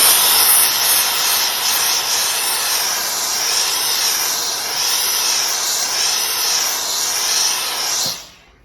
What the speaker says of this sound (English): this is where just a little bit of steam to make sure everything sets properly is useful